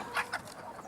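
Chickens in an overcrowded pen give a few quick, soft clucks close by, two short bursts followed by quieter murmuring.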